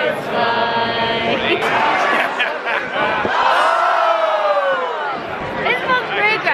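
A large crowd at a rugby legends match, with loud, sustained chanting and whooping voices that swell and fade, dense and close throughout.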